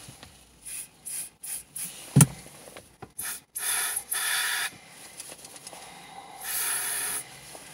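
Several short hissing bursts of Würth silicone aerosol spray onto car interior trim, followed by longer sustained sprays, close by, with a faint tap in between and no talking.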